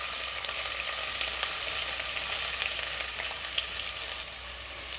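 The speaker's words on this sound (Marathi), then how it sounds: "आता आपण कांदा घालूया." Chopped onion frying in hot oil with bay leaf and whole spices in a pan for mutton curry, a steady close sizzle with faint stirring crackles throughout and no voice.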